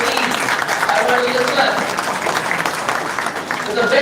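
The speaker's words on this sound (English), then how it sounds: "Please give yourself a round of applause." An audience applauds at a national moot court competition, producing a steady wash of clapping that fills the hall while a person talks over it.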